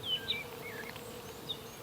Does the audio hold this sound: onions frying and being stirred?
no